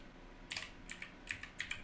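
Quiet, quick keystrokes on a computer keyboard: a short run of about eight light clicks in uneven rhythm, heard close with nothing else around them.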